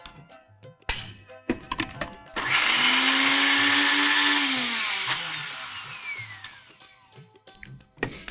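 A kitchen blender whirs loudly for a few seconds, crushing green chili, coriander, sour yogurt and peas into a coarse paste. Its pitch drops slowly as the load thickens, with clattering from handling before and after.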